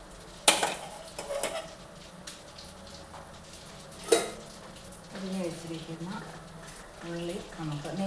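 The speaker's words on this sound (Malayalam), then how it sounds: "ഇനി നമുക്ക് നെയ്യിൽ ഉള്ളി വറുത്ത് ഇടാം" Onions fried in hot ghee for Karkidaka kanji, a soft crackling sizzle broken by sharp clinks of a utensil against the pan and stirring noises, with a voice talking over the cooking.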